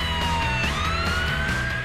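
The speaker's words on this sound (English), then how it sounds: "The seasonal calm is shattered by the sound of sirens." A loud ambulance siren in Blackpool wails continuously with rising and falling pitch, heard up close over the rumble of traffic.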